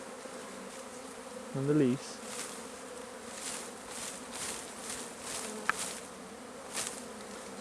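A swarm of honey bees buzzes softly and continuously, with one louder wavering buzz passing close by and a few faint clicks, while a voice speaks briefly.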